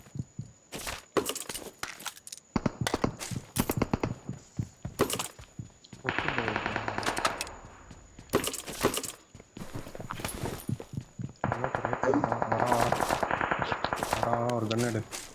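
Rapid bursts of automatic gunfire in the mobile shooter game BGMI, sharp repeated shots in stretches and longer volleys, with players talking over the action.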